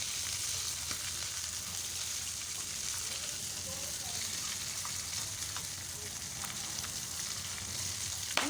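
Chicken potato cutlets deep frying in hot oil give a steady, dense sizzle and crackle that carries on without a break, with faint voice in the background.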